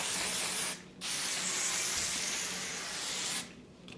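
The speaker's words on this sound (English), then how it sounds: "And then I'll just spray it." Hair spray hissing from an aerosol can in two bursts, a long spray of about two and a half seconds followed by a short pause and another brief spray, close and loud, with no talking.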